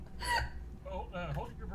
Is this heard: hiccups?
yes